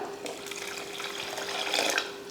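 Water pours into a cooking pot for rasam in a steady, splashy stream for a couple of seconds, close by, with a faint hum underneath.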